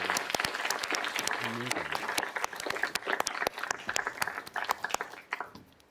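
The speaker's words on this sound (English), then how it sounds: "let's have a round of applause for our two matcha makers" A small audience claps for two contestants after a matcha latte making showdown, a close, fairly quiet patter of individual hand claps with audible separate strikes, tapering off at the end.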